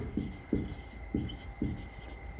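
Chalk writing on a board in a physics lecture comes as a series of short, dry tapping strokes about every half second, quiet and close, over a faint steady hum.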